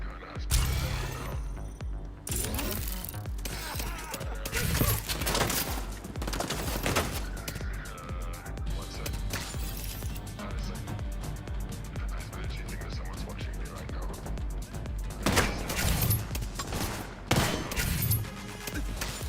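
Sustained rapid gunfire from a seemingly bottomless magazine in The Division 2, Battle for Brooklyn, with dense, loud bursts running almost nonstop throughout and a voice talking over the shooting.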